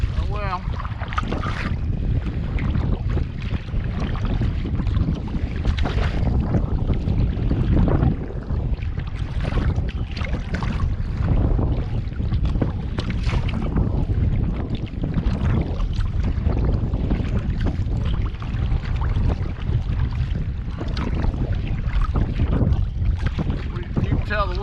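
Steady wind buffets a kayak on open water off Cape Lookout on Thanksgiving, a continuous broadband rush with low rumbling gusts and water movement, loud and close throughout with no clear pauses.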